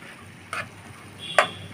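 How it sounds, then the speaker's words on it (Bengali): Spices and vegetables for hilsa fish curry being stir-fried in a pan: a steady soft sizzle with two brief scraping clinks of a spatula. "এই সবজি সহকারে মশলাটা আমি ভালোভাবে কষিয়ে নেব"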